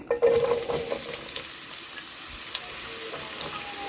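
Onion frying in hot mustard oil in a frying pan, with a loud burst of sizzling at the start that settles into a steady crackle, broken by occasional stirring scrapes.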